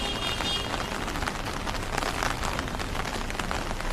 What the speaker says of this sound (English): The rainy streets of Shanghai.